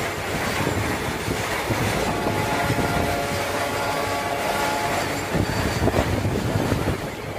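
A Bardhaman-Howrah chord line local train pulling out of Gangpur station, heard from aboard as a steady rolling rumble with rhythmic wheel clatter and faint squeals, loud and continuous.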